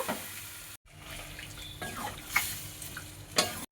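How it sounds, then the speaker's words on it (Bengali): Marinated chicken pieces tip into a hot pan and get stirred, a steady sizzle with scraping spatula strokes and a couple of brief clatters, no talking. "এবারে দিয়ে দেবো ম্যারিনেট করা চিকেনগুলো সব দিয়ে দিলাম, দিয়ে একটু নেড়ে ছেড়ে নেব।"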